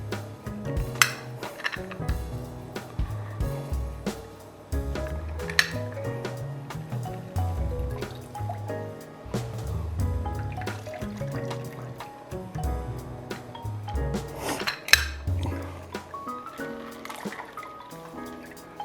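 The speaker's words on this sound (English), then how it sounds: "we're going to add the juice of 1 lemon" Lemon juice is squeezed into a holiday margarita cocktail, with close, irregular trickles, drips and soft clinks of fruit and glass, quiet and uneven throughout with no talk.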